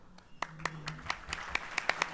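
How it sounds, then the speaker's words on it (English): Scattered clapping from a small number of people at a distinguished alumni awards evening, honoring former award recipients; individual claps ring out distinctly and irregularly, fairly close, with faint murmuring beneath. "We'd like to give you a round of applause as well."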